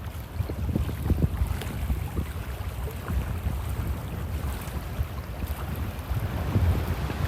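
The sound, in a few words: wind on a beach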